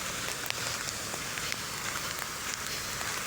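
Steady rain falls outdoors along Manila Bay, a continuous broadband hiss with scattered louder drop impacts, even in level throughout and heard alone without talk.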